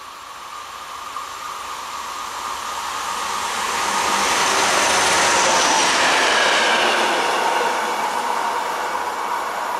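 A train rolls through Karlstadt station in Germany, a broad rushing roar that swells to its peak midway and stays loud to the end, with faint clickety-clack over the wheels and no voices.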